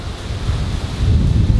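Strong wind gusting by open water where a sugar-rocket boat is about to launch, a steady loud roar of buffeting and rumbling wind noise with surf-like wash, swelling louder toward the end, no voices.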